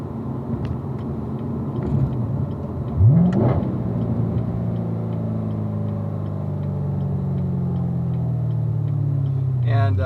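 A car's throaty exhaust note rumbles low and steady, swelling briefly as the engine revs, with a voice speaking over it inside the cabin.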